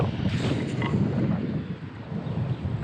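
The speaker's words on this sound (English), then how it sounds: "The wind is blowing." Wind gusts buffet a microphone outdoors while someone fishes with a Daiwa Tatula 100 baitcasting reel, a steady low roar with slight swells and no talk.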